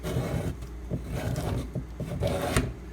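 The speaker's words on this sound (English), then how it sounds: "I just use this cheapo ruler. I think it came off of a blackboard or something. And just scrape." Metal ruler scraped along a leather strop to remove old polishing compound, repeated close rasping strokes with soft rubbing between them, steady and moderately loud.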